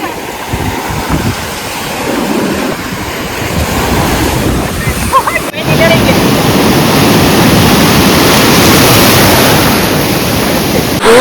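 Ocean waves breaking and washing up on a hidden private beach near Udupi, a loud, continuous roar of surf with steady wind buffeting the microphone, swelling heavier halfway through.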